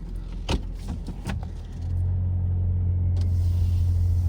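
Rush hour road traffic in Collingwood just before freezing rain, heard from inside a car as a steady low engine and road rumble with a few brief thumps early on, continuous and fairly loud throughout.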